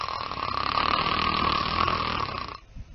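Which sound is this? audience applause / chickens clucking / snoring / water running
snoring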